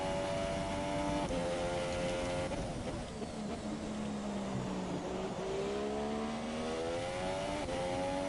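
A Formula 1 car on a flying qualifying lap at Bahrain in the F1 2017 racing game; high-pitched engine whine rising and falling through gear changes and corners, continuous and fairly quiet with no speech.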